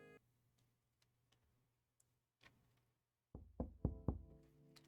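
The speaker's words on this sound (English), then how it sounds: "I heard a knock on my door." Knocking on a door as a sound effect in a visual novel video game: after a quiet stretch with faint ticks, four or five sharp, loud raps come in quick succession near the end.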